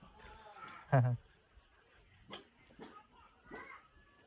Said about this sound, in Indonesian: Oh, ada pula guguknya di sini. Gonggong pula dia tuh.